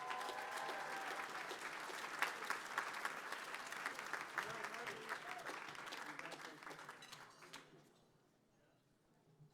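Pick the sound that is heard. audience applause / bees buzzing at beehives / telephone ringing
audience applause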